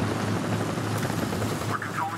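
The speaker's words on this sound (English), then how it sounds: "I hear a helicopter. I don't like it." A helicopter in the tank battle game War Thunder gives a steady rotor drone and engine rumble, heard close and moderately loud, with a couple of brief higher tones near the end.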